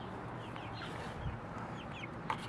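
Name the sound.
chickens clucking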